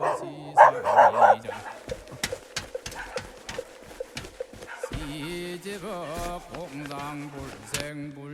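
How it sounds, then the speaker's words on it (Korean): Four dogs on a mountain trail at Woraksan near Bodeokam bark and yip excitedly in greeting, a close burst of sharp barks followed by scattered yelps and whines, with voices at times. "멍멍이 4마리가 먼 데서 오신 손님을 격하게 반기고 있다"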